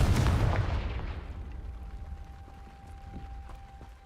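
A Confringo fire spell blasts in the video game Hogwarts Legacy, one loud, close booming explosion that rumbles and fades away over a few seconds, with a faint tone lingering underneath.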